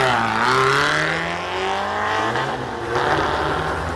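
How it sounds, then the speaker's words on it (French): Alpine A110 race car starting a hill climb run in 2003, its engine revving hard and rising through gears close by, loud and sustained with shifts as it pulls away. "Départ de l'Alpine A110 de Stéphane Thibault"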